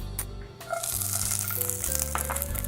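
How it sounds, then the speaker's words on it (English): Onions, jalapeno peppers and tomatoes sauté in a hot pan for Mexican huevos rancheros, giving a steady close sizzle with light rattling clatter as the vegetables hit and shift in the pan. "now that my pan is nice and hot, I'm gonna start doing a quick saute of onions"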